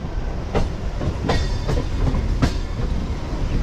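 A MEMU passenger train on the Rajahmundry to Vijayawada route runs steadily, its wheels clacking rhythmically over track joints amid a continuous rumbling roar.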